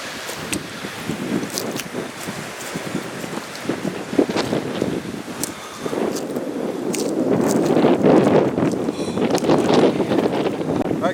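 Wind gusts buffeting the microphone outdoors in open Oklahoma hunting country, a steady broadband rush with thumping bursts that grows stronger and louder in the second half.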